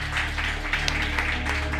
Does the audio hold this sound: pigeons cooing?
no